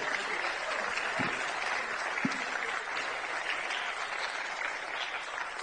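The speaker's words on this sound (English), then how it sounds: "So big round of applause for Sebastian" Crowd applause for a player at a Dutch Eredivisie event at the Frans Otten Stadion in Amsterdam, a steady wash of clapping from many hands held at an even level for several seconds, with no voices over it.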